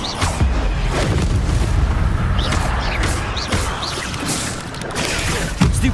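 An Expelliarmus spell is cast in the video game Hogwarts Legacy, heard as a loud, continuous wash of booming magical impact effects with repeated crashing bursts throughout.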